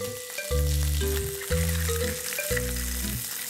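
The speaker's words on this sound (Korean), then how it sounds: "먼저 샬롯과 마늘을 잘게 썰어 볶고" Finely chopped shallots and garlic fry in a pan with a steady sizzle, heard under loud rhythmic background music.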